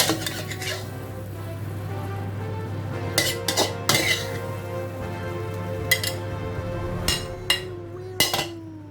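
Metal utensils clatter and scrape against a wok in bursts while bean sprouts, tofu and bacon stir-fry over a steady background hiss and hum, with sharp clinks scattered throughout.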